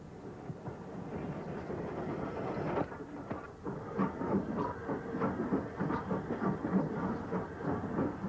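A steam tank locomotive, an LSWR B4 class engine, rolls along the rails with rhythmic clickety-clack and hissing, starting quiet and growing louder, its wheels clattering at moderate distance.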